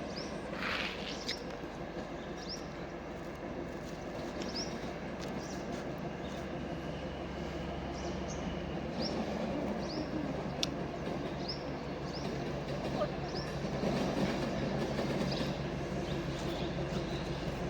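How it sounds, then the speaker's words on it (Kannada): A DEMU train on the Alnavar–Dandeli line rumbles steadily into a station, a low continuous roll with faint high squeals and a few bird chirps above it, no voices. "ಟ್ರೈನ್ ಬಂತು"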